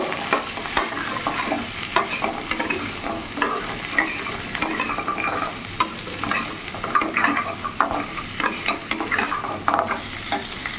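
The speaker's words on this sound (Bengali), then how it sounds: "ভেজে রাখা বেগুন আমি দিয়ে দেবো, আর এখানে ভেজে রাখা বড়িটাও দিয়ে দেবো। ভালো করে নাড়াচাড়া করে নেব।" Fried eggplant and lentil dumplings (bori) are stirred in a sizzling pan, loud and close, with frequent rhythmic scrapes and clicks of the spatula over a steady frying hiss.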